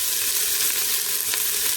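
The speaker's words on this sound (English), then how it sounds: "So I am going to start by frying up the grated carrots" Continuous bright sizzling of grated carrots frying in hot oil, close and steady, with no voices.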